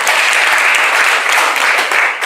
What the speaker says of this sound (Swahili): Upige Bwana makofi